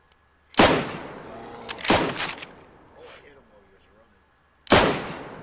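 Gunshots in the video game DayZ: three loud, sharp reports a few seconds apart, each with a trailing echo, plus a brief voice in the gap between them.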